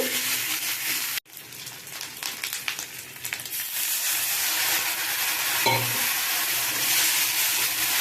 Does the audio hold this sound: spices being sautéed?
yes